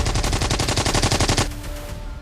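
Rapid bursts of automatic gunfire in Sudan, about a dozen evenly spaced shots in quick succession, then a brief fading echo.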